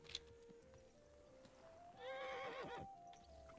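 A horse in the video game Kingdom Come: Deliverance II whinnies once, a short wavering neigh rising over a faint steady hum, with light clicks before it.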